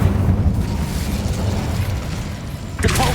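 A fiery spell blast from the Incendio fire spell in Hogwarts Legacy, a sustained low booming rumble with a sharper burst near the end, loud and close with no talking.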